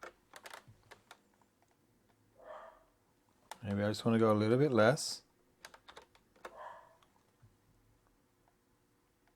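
Fingers type on a computer keyboard, entering a formula into a spreadsheet, producing scattered light clicks and taps between and under a person's speech.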